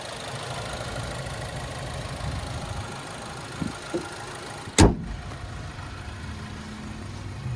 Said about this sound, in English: And there's that turbocharged 4-cylinder,